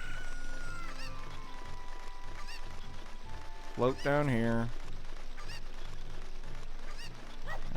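A chicken in the video game The Legend of Zelda: Ocarina of Time squawks in a brief, loud burst partway through, set against steady game music and a voice talking over it.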